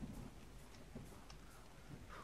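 Low rolling thunder rumbles through steady rain during a storm in modded ARK: Survival Evolved, quiet and continuous with a few soft swells.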